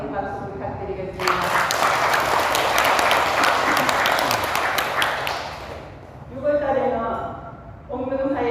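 A temple congregation at a regular Buddhist dharma service in Yeongcheon claps in a loud, sustained round of applause lasting several seconds, then it fades and a voice speaks.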